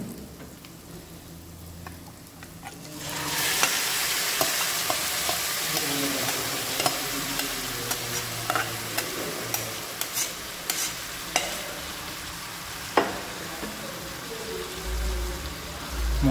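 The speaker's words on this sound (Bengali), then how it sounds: "মটনটাকে ফায়ারটাকে একটু তেজ করে দিয়ে যে 8 থেকে 10 মিনিট এভাবে কন্টিনিউ নাড়িয়ে কুক করে নেবেন।" Mutton marinated for an hour hits a hot pan and stir-fries on high flame. A loud, steady sizzle bursts in after a quiet start, broken by sharp clanks of a spatula scraping the pan.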